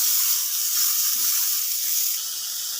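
Tomatoes frying in a pan for karela pyaz, a steady close sizzle and hiss that holds evenly throughout with no talking.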